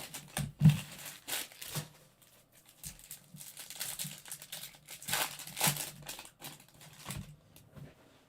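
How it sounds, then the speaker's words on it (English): Paper and foil wrappers of 2022 Topps Allen & Ginter Chrome trading card packs crinkle and rip in close, scattered bursts, with rustling card handling between tears and no talk. "Whatever 18 times 12 is, that's how many packs we have left to rip and go through."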